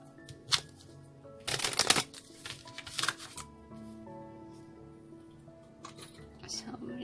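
Tarot cards are shuffled in several quick riffling bursts, crisp and close, with quieter shuffling and handling sounds between them.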